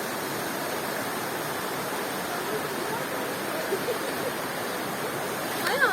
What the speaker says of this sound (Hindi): ऊपर से आबशार आ रही है, पानी बहुत अमेजिंग है।